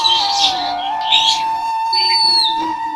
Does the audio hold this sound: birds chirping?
yes